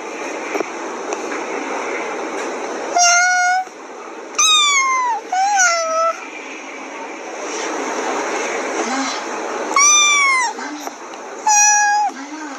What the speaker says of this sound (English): That's like a cat noise there.